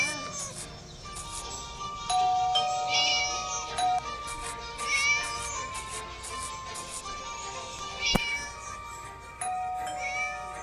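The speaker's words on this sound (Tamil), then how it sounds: "பூனைக்கிட்ட வேற ஆவு ஆவு ஆவுன்னு கத்திக்கிட்டே இருக்கு." A cat meows repeatedly and insistently over continuous tonal music and background sound from a video game, with a steady stream of cries and a sharp click near the end.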